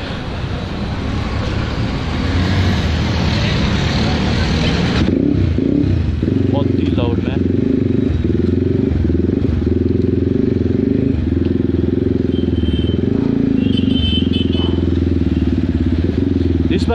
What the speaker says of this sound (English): So this bike is a loud beast, man.